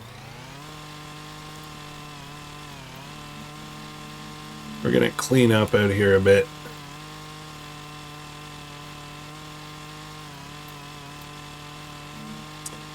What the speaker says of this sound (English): I'm just going to do a little bit more chainsaw work.